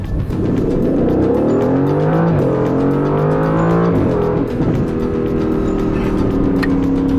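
An Aston Martin's powerful engine rumbles loudly up close, its pitch rising and falling as it revs and settles, with no talking.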